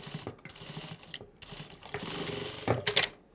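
Sewing machine stitching a denim handbag in short runs, with quick mechanical whirring bursts separated by pauses and a louder rattling burst near the end.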